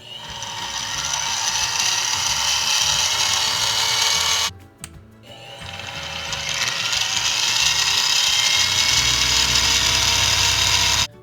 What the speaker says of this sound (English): now we'll go ahead and drill the hole